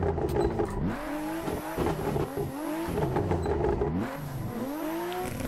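Toyota Supra A90 being drifted in the racing game Assetto Corsa, its engine revving hard in repeated rising and falling sweeps with shifts, loud and continuous throughout, with faint tire noise underneath.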